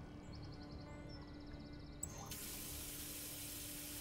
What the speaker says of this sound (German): Ein völlig verdreckter Wasserhahn